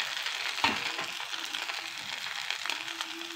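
Sabudana snack sticks fry in hot oil, making a steady close crackle and sizzle with a brief clink near the start.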